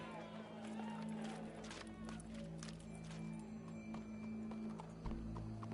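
Horse hooves clip-clop at a steady pace amid a busy Red Dead Redemption 2 game soundscape, with a low hum, scattered clatter, and faint voices in the background.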